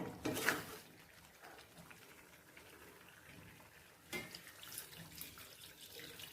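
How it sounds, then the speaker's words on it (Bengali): Water is poured into fried mutton in a cooking pot to make gravy, a short splashing pour at the start and another softer one later, fairly quiet with low background noise in between. "এখন একটু ঝোলের জন্য জল দিয়ে দেব।"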